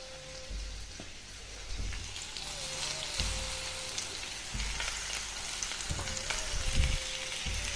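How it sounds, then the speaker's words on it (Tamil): Tomatoes and onions sauté for tomato chutney, giving a soft, continuous crackling sizzle with occasional spoon scrapes against the pan, heard nearby at a gentle level. "நல்லா வதக்கி விட்டுக்கலாம்."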